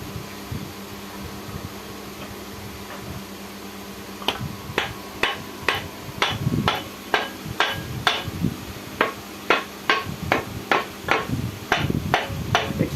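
Steady hammer blows knocking a part out of an old press machine from below: after a few quiet seconds of background noise, about sixteen sharp metallic strikes fall in an even, close rhythm.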